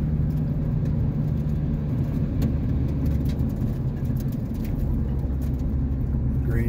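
Grand Junction dump truck driving past on a mountain road up on the Grand Mesa in Colorado, a steady loud engine roar and road rumble heard from inside a moving vehicle, continuous throughout with no talking.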